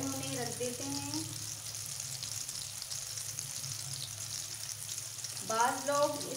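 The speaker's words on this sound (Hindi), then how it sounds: "आलू को फ्राई होने रख देते हैं" Potatoes fry in a pan with a soft, steady hiss of hot oil that holds evenly throughout. A voice speaks briefly at the start and again near the end.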